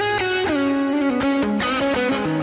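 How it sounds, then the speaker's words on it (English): A PRS electric guitar with a split humbucker pickup runs through an Axe-Fx set to a big, clean, slightly pushed amp tone with reverb and delay, playing sustained chords and melodic notes alone. "This is just one I have for this really big, clean, kind of like pushed amp sound."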